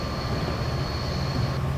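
A Metra F40 diesel locomotive in Train Simulator idles at 900 RPM with head-end power running, giving a loud, steady low rumble and a constant high whine that stops near the end.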